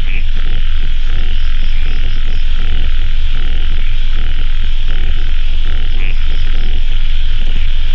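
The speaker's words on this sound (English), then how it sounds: "I know there's a lot of toads in the background" A dense chorus of toads croaking steadily in the background, with a constant low hum and wash of outdoor noise throughout.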